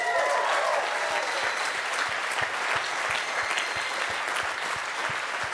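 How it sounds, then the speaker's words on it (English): A live audience applauds at a talk show event, dense sustained clapping filling the room at moderate level, steady throughout with no voices over it. "Round of applause for you guys."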